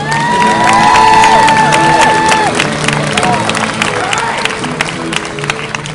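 A street performance crowd in Boston claps, cheers and whoops loudly, with shouting voices and whistles rising over a dense wall of applause that slowly eases.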